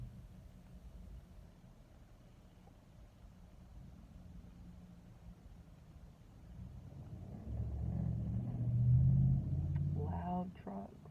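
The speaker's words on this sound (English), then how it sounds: "Loud trucks going by." Loud trucks pass by outdoors, a low rumble that swells and peaks near the end, heard under faint background noise.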